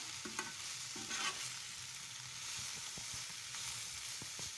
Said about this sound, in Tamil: சேர்த்துட்டு நல்லா கிளறி விட்டுக்கலாம்.